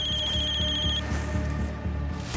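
A telephone rings in a Crime Patrol murder-mystery drama scene, a steady electronic ring lasting about a second over a loud, continuous background music bed.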